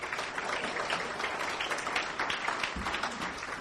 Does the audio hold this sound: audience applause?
yes